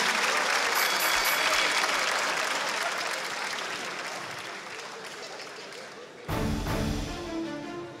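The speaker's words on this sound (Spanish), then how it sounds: "¡Fuerte aplauso para ambos!" Studio audience at a Mexican comedy contest show bursts into loud, sustained applause for both contestants, the clapping thinning slightly before a sudden jump in noise near the end.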